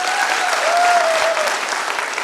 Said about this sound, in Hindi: उसके लिए सम्मान में मैं जोरदार ताली करूँगा